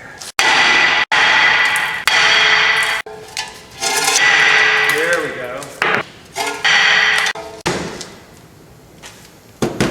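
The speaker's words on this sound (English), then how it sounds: "Taking a giant hammer, I'm just gonna smash this hard and hopefully break it free from the hub" Heavy, loud hammer blows strike a rusted front brake rotor on a 2013 Honda Pilot, trying to knock it free from the hub: a series of sharp metallic bangs with ringing decay, irregularly spaced, close up, without talk.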